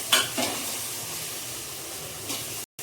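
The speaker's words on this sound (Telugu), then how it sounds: "టమాటా పండ్లు ఉల్లిపాయలు వేగేటప్పుడే మెథీను కొత్తిమీర కూడా యాడ్ చేసేస్తున్నాను." Tomatoes and onions fry in a pan with fenugreek and coriander added, giving a steady soft sizzle and hiss, with a couple of brief stirring scrapes near the start.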